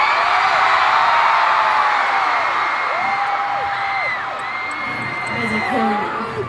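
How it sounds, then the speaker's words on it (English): A huge arena crowd at a concert at The O2 in London roars without letup, with high whoops and screams rising over a dense, loud wall of cheering. "And I must say, the crowd is louder than ever."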